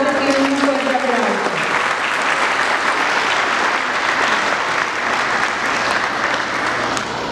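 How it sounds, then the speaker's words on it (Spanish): Audience applause at a 2019 kindergarten graduation, loud sustained clapping from a crowd that rises as an announcer's voice fades out at the start, then continues steadily. "profesora y licenciada Sandra Luz Pescador, para la cual tiene un fuerte aplauso."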